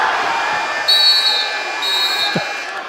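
A high school boys' basketball crowd in a gym, Elsik vs. Hastings, keeps up a continuous wash of cheering and applause, with whistle-like tones rising above it and no clear voice over it.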